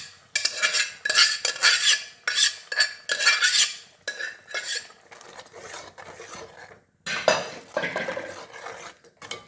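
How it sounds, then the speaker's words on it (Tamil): Cooked brinjal being mashed in a metal pot for Chidambaram kosthu, with a run of close, irregular scraping and clanking strokes of a utensil against the pot, pausing briefly before resuming. "அதை இந்த அளவுக்கு நல்லா மசிச்சிடணும் கத்திரிக்காயை."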